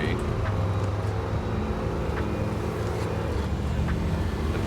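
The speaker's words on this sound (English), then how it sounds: "I say if the engine's too loud, the music's not loud enough." Car engine droning in a driving video game set in Michigan, a steady low hum with road noise running continuously under the game's music and sound.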